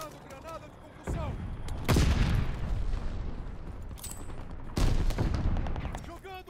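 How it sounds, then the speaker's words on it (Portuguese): Heavy booms and gunfire in Call of Duty: Vanguard multiplayer, with two loud blasts standing out about three seconds apart amid ongoing shooting and voice callouts. "Jogando granada de concussão."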